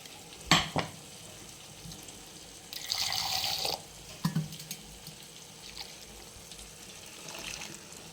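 Ground spice paste is tipped into a pot of raw mango sambar and stirred in, giving faint wet splashes, scrapes and liquid bubbling with a brief louder pour partway through, quiet overall.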